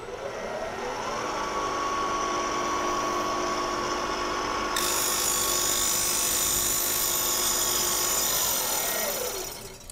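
Tormach PCNC 1100 CNC mill spindle cutting a slot, a steady high whine with a sustained tonal pitch, shifting brighter partway through the cut and holding loud and close throughout.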